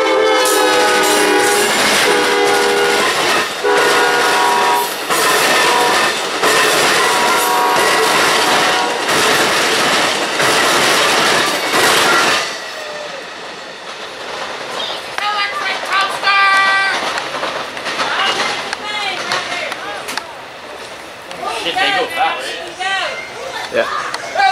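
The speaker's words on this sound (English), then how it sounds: "train to make its way past was Amtrak PO-91 coming out of its station stop in Tampa" Amtrak passenger train P091 passes close by in Central Florida near Tampa, loud with a heavy diesel roar and sustained horn blasts. It then recedes into rumbling wheels and clatter while people chatter nearby.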